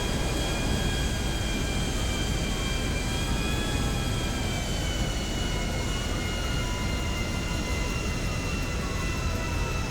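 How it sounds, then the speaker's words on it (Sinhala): Hijacked jet plane in the GTA V video game coming in to land on a beach, a steady loud roar of jet engine with a high whine layered on top, continuous and unbroken throughout with no talking. "ඔන්න අපි ජෙට් එක බාගත්ත සාර්ථක ලෙස වෙරළට"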